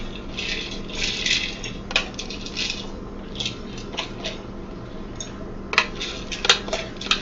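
Rinsed items dropped into a pudding bag at a kitchen sink for a Jiggs dinner, a series of small clinks and rattles with light water noise, faint and irregular, with no talking.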